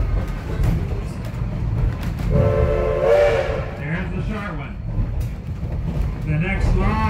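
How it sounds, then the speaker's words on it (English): A heritage steam train on the Huckleberry Railroad sounds a short, bright whistle blast, loud over the rumble and hiss of the moving train, followed by softer whistle toots while a person talks. "Now the next horn is going to be a little shorter."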